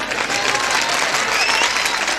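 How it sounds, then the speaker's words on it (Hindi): Audience at a Hindi kavi sammelan poetry gathering applauds with steady, dense clapping that fills the room, sustained and fairly loud throughout with no pause. "2-3 तालियों के लिए बहुत धन्यवाद"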